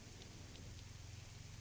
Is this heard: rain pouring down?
yes